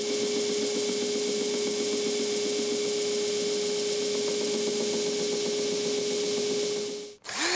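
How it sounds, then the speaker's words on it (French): A band saw cuts a curve in wood for a furniture piece, a steady close whine with a constant tone and rough cutting noise, running evenly for about seven seconds before stopping abruptly. "Nous allons commencer par découper à la scie à ruban la courbe et la rendre"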